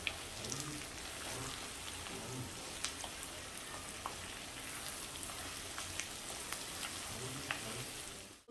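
Okra sizzles steadily in oil in a pan over a medium-high flame, a dense, even frying crackle with faint pops scattered throughout and no talking.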